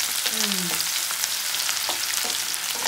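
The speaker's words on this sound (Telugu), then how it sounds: "ఈ ఆనియన్ కొంచెం మంచిగా ఫ్రై అవ్వాలి" Finely chopped onions fry in hot oil in a pan with curry leaves for an Andhra-style dry curry, giving a steady, close sizzle with a few brief stirring scrapes and no talking.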